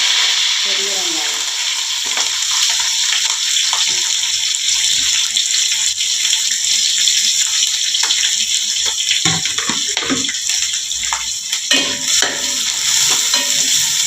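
Chopped big onions and green chilies sizzle in hot oil in a pan while a spoon stirs and scrapes, a steady close frying hiss broken by irregular clinks and scraping strokes, with no voice over it.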